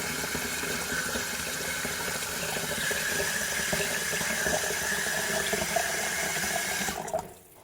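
Water poured from a kettle into a sink after a descaling boil, a steady loud splashing stream that runs for about seven seconds and then stops abruptly.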